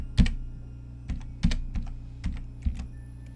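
A new password is typed on a computer keyboard as a string of crisp, close key clicks in small uneven bursts, roughly a dozen presses with short gaps, with no voices.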